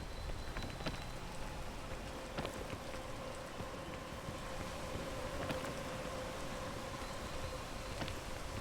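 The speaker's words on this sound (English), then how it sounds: "We're just gonna keep going through the rain." Rain falls in a video game as a steady, even hiss of drops across the whole stretch, with a few faint tonal game sounds underneath and no talking.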